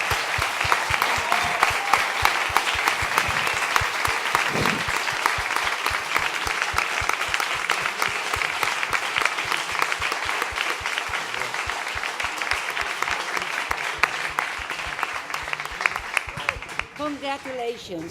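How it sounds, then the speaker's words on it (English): A South Summit 2016 startup competition audience applauds, a dense, sustained burst of clapping from a large crowd, with some talk mixed in that fades near the end. "So a big applause."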